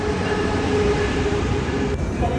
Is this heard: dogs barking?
no